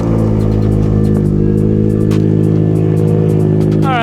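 A 2022 Subaru WRX fitted with a TOMEI single-exit exhaust idles loud and steady close by, its engine note rising sharply in a quick rev near the end, with no talking.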